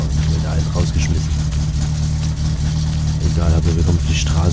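A car engine in the game My Summer Car runs with a loud, steady low hum and a rough revving drone throughout, while someone talks over it.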